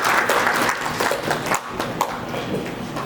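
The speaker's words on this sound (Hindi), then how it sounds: "एक बार जोरदार ताली के साथ मैं चाहूँगा यहाँ पर स्वागत करूँ" A crowd at a party press conference in Ranchi claps loudly to welcome the party president, a dense, steady patter of hands sustained for several seconds with slight swells and no voice over it.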